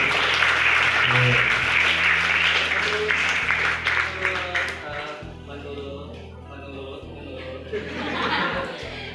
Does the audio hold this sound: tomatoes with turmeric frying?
no